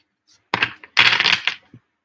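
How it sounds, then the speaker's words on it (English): Tarot cards being shuffled by hand, a few quick crisp riffling bursts close up, with a longer riffle in the middle and short taps before and after. "they shuffle really nice"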